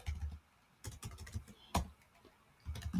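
A terminal command typed on a computer keyboard: quick bursts of close, crisp key clicks with short pauses between, ending in a cluster of keystrokes.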